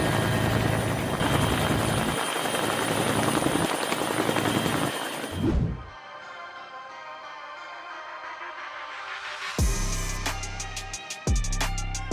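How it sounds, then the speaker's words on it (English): A Sri Lanka Air Force Bell 212 helicopter arriving during a flood rescue, its rotor thudding loudly and steadily before fading, then returning with strong rhythmic blade chop toward the end. "The Sri Lanka Air Force arrived in a Bell 212 helicopter"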